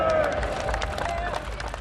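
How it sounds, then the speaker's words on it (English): A crowd of veterans gathered outside the Court of Appeal applauds and cheers, a dense, continuous clatter of clapping with crowd noise mixed in. "arrive at the Court of Appeal to applause from a crowd of veterans"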